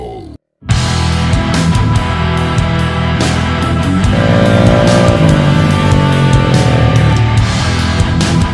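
Sniper V1 motorcycle fitted with a UMA V2 exhaust pipe and titanium elbow, revving loud and close after a brief silent gap, its engine note rising and holding in sustained pulls with sharp throttle blips.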